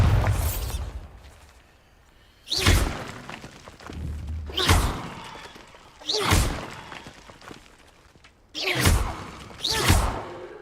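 Bombarda blasting spells are cast in a video game, each one a heavy thudding burst with a whooshing edge, five or so blasts spaced a couple of seconds apart, loud and close against a quiet, faintly rumbling background.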